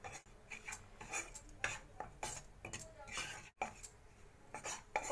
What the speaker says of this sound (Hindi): हमें झटपट इसे लगातार चलाते हुए भूनना है